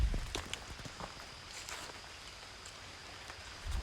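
Light drizzle falling on a foggy Appalachian Trail hike, a faint steady patter with a few soft footsteps or rustles near the start and end, quiet and without talk.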